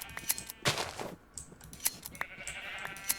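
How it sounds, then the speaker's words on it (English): Sheep bleating in the game Minecraft, short bleats mixed with clicky game effects and soft movement noises, fairly close and clear with no talking. "Let's check on the sheep."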